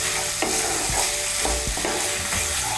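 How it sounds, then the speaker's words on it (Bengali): Spice masala with salt being stir-fried in a pan for egg bhurji, a steady loud sizzle with repeated scraping strokes of the spatula, close up and with no voices. "নুনটাকে ভালো করে মিশিয়ে নিয়ে মশলাটাকে আমি আবার আরেকটু কষিয়ে নেব।"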